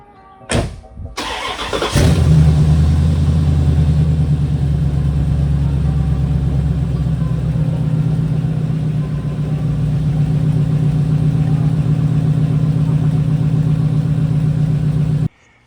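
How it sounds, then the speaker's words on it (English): An LT1 Corvette V8 with a newly replaced Optispark cranks for a couple of seconds, fires, then settles into a loud, steady idle that holds close and even until it is shut off. "I'm about to fire it up and see how it runs so I can get the coolant all into it"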